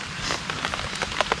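Rain patters steadily on a surface outdoors, a dense soft hiss broken by scattered sharper drops close by, with no voices.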